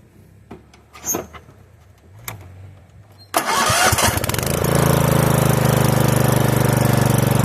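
A few scattered clicks and knocks, then a riding lawn mower engine, its seat safety switch deleted, abruptly cranks and catches, settling into a loud, steady, rumbling run.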